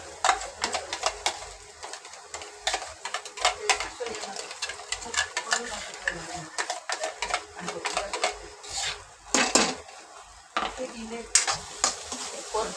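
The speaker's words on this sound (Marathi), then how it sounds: "परतून घ्यायची पेस्ट केलेली आपण व्यवस्थित, म्हणजे मसाला आपला घट्ट होईल." Ground masala paste for chole sautéing in hot oil, a busy crackling sizzle with repeated scraping stir strokes of a spoon against the pan, close and fairly loud throughout, irregular bursts of frying noise with no talk.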